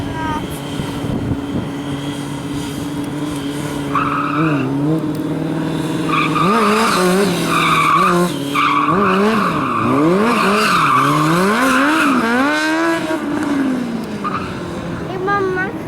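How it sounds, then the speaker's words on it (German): A motorbike drifting at the Hockenheimring, its engine revving and wailing in rising and falling sweeps with skidding tyre noise, loud and sustained, while people talk over it. "Der fährt mit dem Motorrad."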